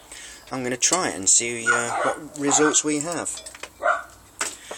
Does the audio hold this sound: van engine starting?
no